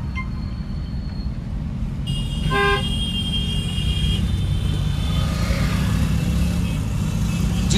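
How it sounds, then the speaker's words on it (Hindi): A single long car horn blast sounds from the driving car as it overtakes on a divided road, ringing over steady engine and road noise for several seconds. "वन टाइम लॉन्ग हॉर्न बजा दो"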